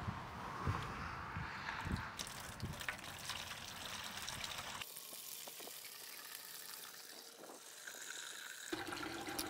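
Water pumped through a hose by a liquid cooling pump for a Nissan Leaf electric motor, a steady gushing, splashing flow that shifts in tone partway through as the container fills, close and continuous with no talk.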